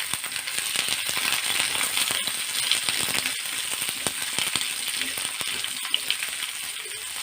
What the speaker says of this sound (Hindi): मीडियम आंच पे इसे प्याज का हल्का सा नरम होने तक हमें अच्छे से फ्राई करना है